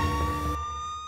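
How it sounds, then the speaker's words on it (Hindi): Ambulance sirens wail loud and close at a bomb blast scene, a steady electronic tone that drops away and then trails off alone. No voices are heard. "एम्बुलेंसों की आपको लगातार आवाज़ आ रही होगी"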